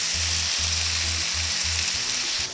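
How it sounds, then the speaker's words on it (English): Shrimp and steak sizzle loudly on an oiled Blackstone griddle in a constant, close hiss, with a low rhythmic hum pulsing underneath. "I'm gonna throw this shrimp down over here. I'm gonna throw this steak down over here."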